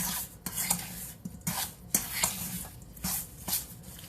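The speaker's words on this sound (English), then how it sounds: "Let's stir that up really well." A fork scrapes and clinks through peach blueberry pie filling with lemon juice in a bowl, making close, rhythmic rasping strokes with sharp metal taps roughly every half second and no talking.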